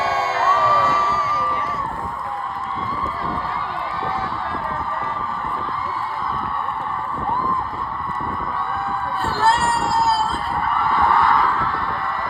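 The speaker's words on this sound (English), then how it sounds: "Applause to my friend MeMeCherry" A large crowd applauds and cheers continuously, with shrill shouts and whoops riding over steady clapping that swells in the final seconds.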